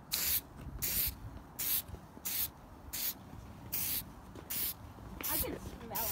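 A spray can fires a row of short, regular bursts of paint onto car headlights in a garage, each bursting hiss loud and close, with voices talking quietly in between.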